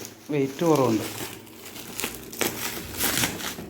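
Plastic packaging around a battery sprayer for organic farming crinkles and rustles in bursts during unboxing, close and moderately loud, with someone talking over part of it.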